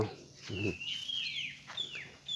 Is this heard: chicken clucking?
yes